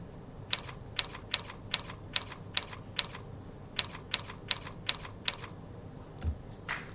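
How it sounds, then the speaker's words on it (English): Computer keyboard keys tapped one at a time in a steady, evenly spaced rhythm during a beginner typing lesson, about a dozen crisp clicks with a brief pause midway, fairly close and alone without talk. "Use your left pinky to tap the letter A."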